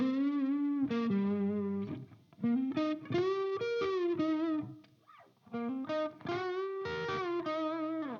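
Electric guitar played through a Behringer TO800 Vintage Tube Overdrive pedal: a close, moderately loud driven tone with sustained chords and short melodic phrases, a few brief pauses between them.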